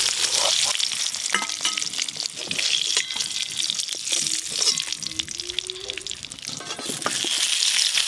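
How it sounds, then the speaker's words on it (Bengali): Eggs fry in hot oil for a chicken curry, crackling and sizzling steadily up close, with stirring and occasional clinks and a short hum partway through. "ডিমগুলো বেশ ভালো করে ভেজে নিয়েছি"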